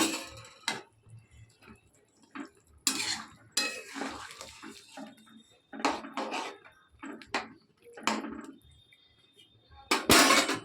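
Metal utensil clinking and scraping through thick curry with fried lentil fritters in a pan, an irregular series of close, sharp clatters and stirring taps with quiet gaps between.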